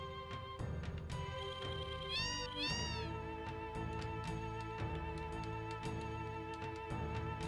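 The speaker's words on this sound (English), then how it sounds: "Come on, sleeping cat, get out of my way." Repeated meows from a sleeping cat in Final Fantasy VII over a layered electronic music backdrop with ringing tones, steady and fairly loud.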